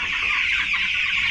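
A flock of young pastured chickens, about three weeks old, clucking and peeping together in a constant close chorus of overlapping chirps with no gaps.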